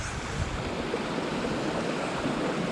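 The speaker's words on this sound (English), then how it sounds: "Well, I made it to the top of the waterfall." A waterfall at Baxter State Park, heard from the top of the falls, makes a steady, dense rushing roar that stays close and constant throughout.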